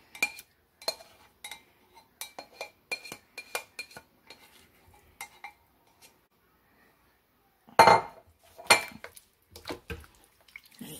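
Carrots, potatoes and onions go back into a pot of corned beef stew, with a run of sharp clinks and clatters from utensils against the pot, a pause, then a louder burst of clanking.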